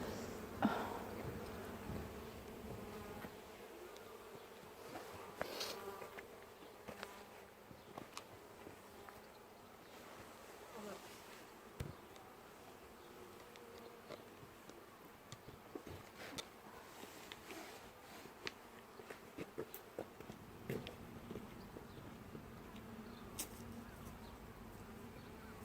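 Honeybees swarming around an open hive in a UK spring apiary, a continuous near buzzing hum with individual bees zipping past the listener and occasional soft knocks and clicks from hive handling.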